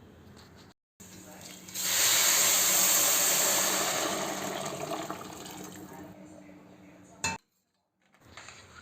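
Boiled water is poured into a pot of roasted rice for ghee rice, a loud, steady rushing hiss that swells and slowly fades, followed by a sharp clink of the pan.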